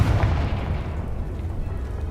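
A Confringo blasting spell goes off in Hogwarts Legacy: a deep boom hits at once, then fades into a low rumbling tail.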